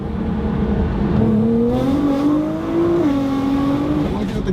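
Nissan R35 GT-R fitted with new wheels and a body kit, its engine droning and rising steadily in pitch as it accelerates, heard from inside the car with a continuous loud rumble.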